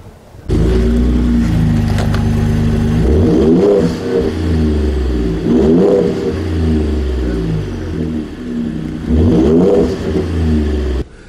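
A 2017 Raptor pickup truck engine revs hard several times off-road in the desert, surging and dropping in pitch with loud bursts of acceleration, close by and continuous.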